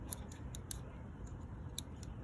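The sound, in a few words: Dodge Ram TIPM wire pigtail connector lever clicking under tool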